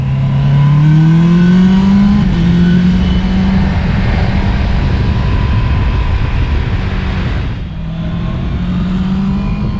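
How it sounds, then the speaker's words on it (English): A 2019 Honda CB650R's low underslung silencer sounds a loud, smooth inline-four exhaust note, pitch rising as it revs, dipping briefly on a shift, then climbing again. "The low underslung silencer emits a beautiful sound, and it does so without being obnoxious."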